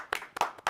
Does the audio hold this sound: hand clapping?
yes